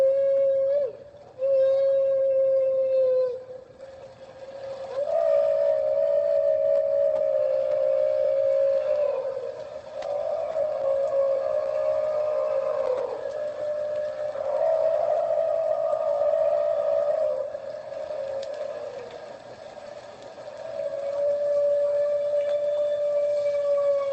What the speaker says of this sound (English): new calls that in the 20 years of recording or listening to whales up there, they've never heard these particular kinds of bubble net feeding calls before.